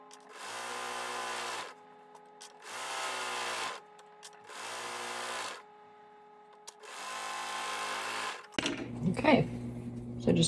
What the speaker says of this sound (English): I'm just going to serge along that top edge.